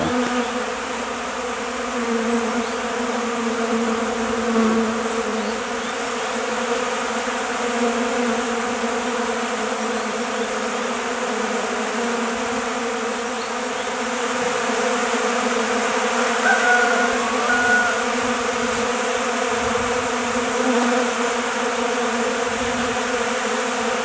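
Honeybees buzzing at the hive in February, a dense steady drone of many wings close by, holding level and continuous throughout with no voices.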